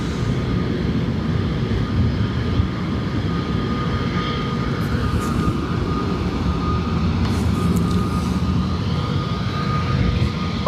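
Airbus A320neo airliner at Dublin Airport, its engines making a steady, loud roar that holds evenly throughout, with no voices.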